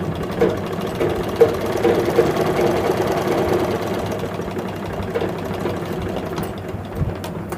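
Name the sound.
sewing machine stitching a nightie seam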